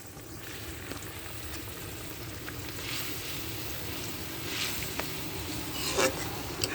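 Spice paste with tomato and sugar frying in a pan for a broiler chicken dish, a steady soft sizzle with occasional stirring scrapes, close and fairly quiet.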